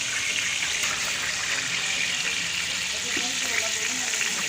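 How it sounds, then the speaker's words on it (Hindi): Onions sizzle in hot ghee, a steady, bright hiss of frying that holds evenly throughout, close and moderately loud with no pauses. "घी हमारा गरम हो गया है। इसमें मैं अब प्याज डाल रही हूँ।"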